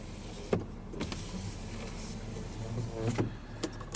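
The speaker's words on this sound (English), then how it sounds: "Power sliding rear window." The power sliding rear window of a 2023 Honda Ridgeline RTL-E pickup runs with a quiet electric motor whir, broken by a few soft clicks and thumps as the glass starts and stops inside the cabin.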